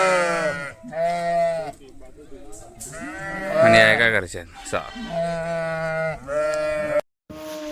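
Sheep bleating repeatedly near a farm pen, several loud wavering calls one after another, with someone talking in between.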